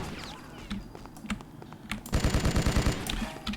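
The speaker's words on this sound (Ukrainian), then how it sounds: "І знову за кулемет. Я тут усі кулемети використаю." Rapid machine gun fire in the BloodRayne video game, a fast rattling burst dominating the second half after scattered shots and game noise, loud and close.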